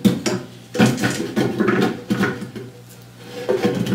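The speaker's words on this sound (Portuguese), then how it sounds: "E eu vou adicionar aqui no nosso liquidificador agora a banana e a maçã que nós picamos aqui" Chopped banana and apple pieces are dropped into a blender jar, giving a series of close, irregular knocks and clatters with short pauses between them, and no voice over them.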